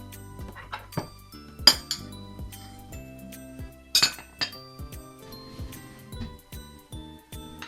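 Dishes and utensils clink repeatedly as meatball sweet-and-sour pork is served onto a plate, with several sharper metallic knocks standing out over a low background hum.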